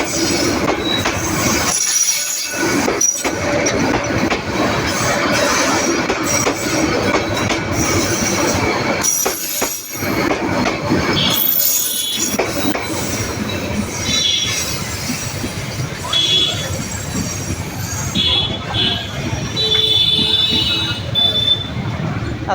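A train rolls through a railway level crossing north of Brahmanbaria Government College, loud and close, with a continuous heavy rumble, wheel squeal and rattling carriages that go on for the whole stretch, with voices faintly under the noise.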